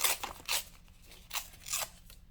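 Scissors snipping paper to trim pastel dessert planner stickers, several crisp close snips in an uneven rhythm with quiet gaps between cuts, no talking.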